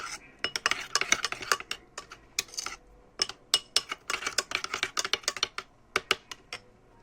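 A spoon stirring spices for local duck in a pot clinks and scrapes in quick irregular bursts against the metal, close and fairly crisp, with short pauses between runs of strokes and no talk.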